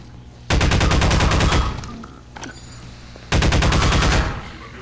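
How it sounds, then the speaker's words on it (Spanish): Automatic weapon fire in the Half-Life 2 video game, two long loud rapid bursts separated by a short gap of quieter mechanical clicks and clatter. "Son como balas de entre ametralladora y escopeta"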